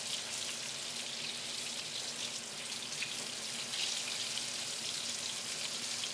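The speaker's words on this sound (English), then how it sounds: "Let them fry for another minute or two until they're the same color on the other side" Breaded pork cutlets fry in a pan with a steady, bright, hissing crackle of hot oil that holds at an even level the whole time, with no talk over it.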